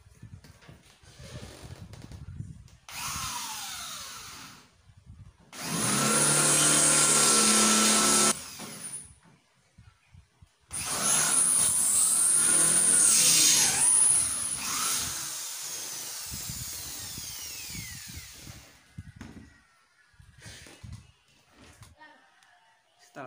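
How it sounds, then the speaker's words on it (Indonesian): A power drill fitted with a 6 mm bit, running in two long loud whining bursts with short starts and stops between them, while a voice talks quietly during the quieter stretches. "Baru pakai mata bor 6 mili."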